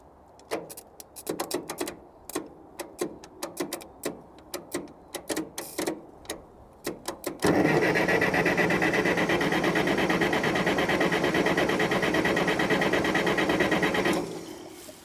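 A Case 580CK backhoe engine turning over on its starter: rapid rhythmic clicks and chugs for several seconds, then a steady loud churning drone that cuts off near the end.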